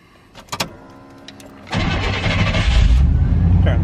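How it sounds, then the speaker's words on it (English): An OBS Chevy truck engine cranks and catches, then settles into a loud, rumbling idle up close. A few faint clicks come before the start. "Turn the truck on just so that you guys can see."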